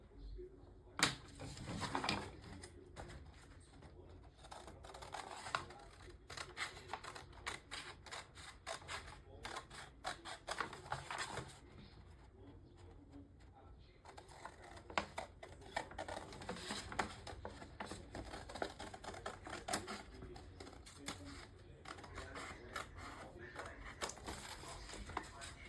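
Scissors cutting through a paper blouse pattern, a long run of crisp snips and rustling paper close by, irregular and persistent, with light handling noises in between.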